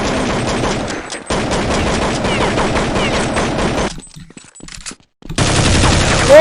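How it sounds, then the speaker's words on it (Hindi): Sustained machine-gun fire in Counter-Strike, rapid and loud, with a short break before the shooting resumes, while people talk over the game. "गोलियां खाली कर दिए हैं यहाँ पे एक दूसरे के ऊपर"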